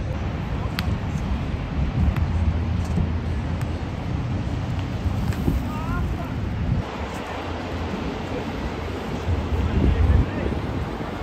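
Ocean surf washes along a shoreline in a steady broad roar, mixed with wind buffeting the microphone and faint passing traffic, without clear speech.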